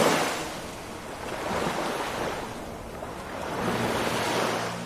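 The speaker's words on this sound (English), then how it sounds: "water moves, waves break" Ocean surf breaks on a shore in slow swells, each wave rising to a broad roar and easing back, with wind buffeting the microphone.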